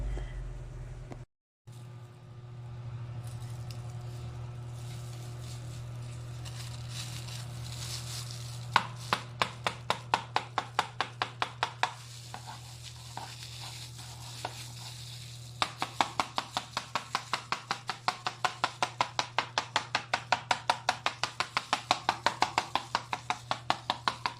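Knife slicing set gulaman gelatin, a long steady train of sharp, evenly spaced taps against a board over a constant low hum, growing quicker and denser toward the end, with no voice.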